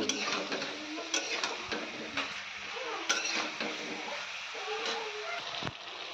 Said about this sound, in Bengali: এবার এই মশলাটাকে ভালো করে নেড়ে চেড়ে তরকারিটাকে একটুখানি কষিয়ে নেব